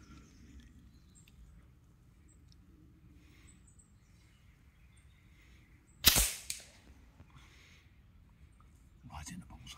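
A single sharp, loud shot from a .22LR rifle or FAC air rifle at an outdoor target range, cracking out once midway against quiet background noise with faint movement sounds afterward.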